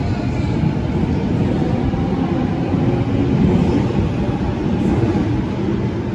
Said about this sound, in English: Now we have another train.